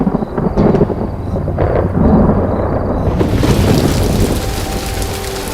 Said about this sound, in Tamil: இப்போ நான் மழை பெய்யும் சொன்னா மழை பெய்யுமா?